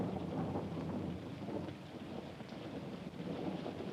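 Steady rain pours down with low, rolling thunder rumbling underneath, a dense continuous wash of storm noise at fairly even loudness with no voices.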